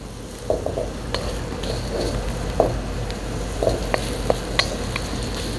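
Ginger and garlic sizzling steadily in hot oil, a dense continuous crackle close up, with a few light utensil taps and clicks scattered over it.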